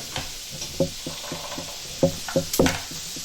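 Butter sizzles in a hot pan, a soft steady fry broken by repeated knocking and scraping of a utensil against the pan, close and fairly quiet, with no one talking.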